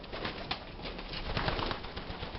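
Standard racing pigeons coo softly in a low, rumbling murmur, with faint rustling and bird activity close by and no talking.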